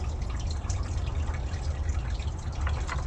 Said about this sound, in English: Now we're just going to pour a little bit on the bird